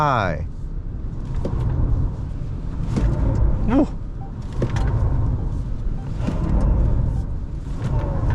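Interior road and tyre rumble from a NETA X 480 Smart electric car driving a slalom at about 50 km/h, a steady low drone with brief squeals and shifts, under continuous talk from occupants.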